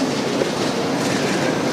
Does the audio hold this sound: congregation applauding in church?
no